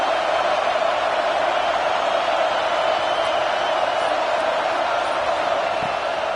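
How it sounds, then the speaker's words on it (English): A football stadium crowd roars in a steady, dense wash of cheering, loud and unbroken throughout, with no distinct individual voices standing out. "Listen to this crowd just shaking the girders of this place, trying to help their defense."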